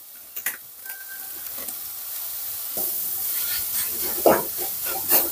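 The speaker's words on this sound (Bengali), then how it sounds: "সুন্দর ভাজা হয়ে যাচ্ছে।" Radish and tomato filling frying in a pan for paratha, a low sizzle with scattered stirring clicks and scrapes of a spatula, close and moderately quiet, with no talking.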